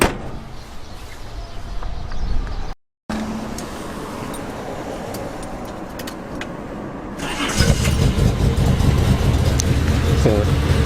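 A 40-year-old Nissan Skyline Kenmery GC111 cranks over from cold and catches, settling into a steady idle that grows louder and fuller after a brief silence, heard up close.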